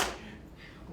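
A single sharp hand clap opens a clap-and-stamp rhythm game, fading quickly into a quieter room, with a softer thud following shortly after.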